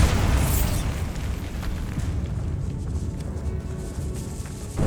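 A deep, rumbling Bombarda blast spell from Hogwarts Legacy booms loudly, then rolls into a sustained low roar of debris and echo that fills the whole stretch.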